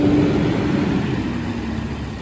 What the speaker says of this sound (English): that's a loud ass bus.